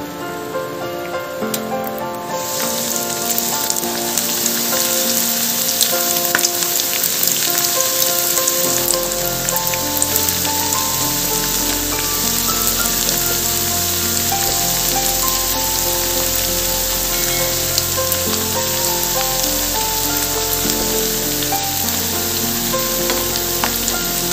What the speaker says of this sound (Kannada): ನಾನು ಒಂದೊಂದೇ ಬ್ರೆಡ್ ಪೀಸ್ನ ನಾನು ಆಯಿಲಲ್ಲಿ ಫ್ರೈ ಮಾಡ್ತಾ ಇದ್ದೀನಿ